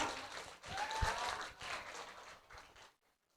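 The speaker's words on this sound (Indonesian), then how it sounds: "tepuk tangan luar biasa Jos ya" Audience applause at a school student council (OSIS) candidate debate in a junior high hall, a dense wash of clapping lasting nearly three seconds before cutting off to silence.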